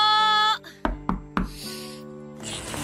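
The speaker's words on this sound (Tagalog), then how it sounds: "Sino kaya yung kumakatok sa labas?" Several sharp knocks on an apartment door in the middle of the night, three loud raps spaced unevenly, following a sustained musical tone and with soft background music underneath.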